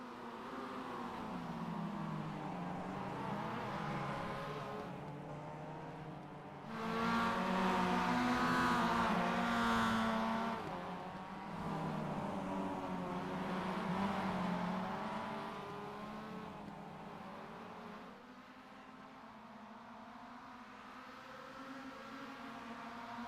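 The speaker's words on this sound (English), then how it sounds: "Connor Cunningham drifting into the draft of the cars in front." Mazda MX-5 Cup race cars in a sim racing game run in a pack, a steady droning engine note that swells louder in the middle as cars draft closely, with no talk over it.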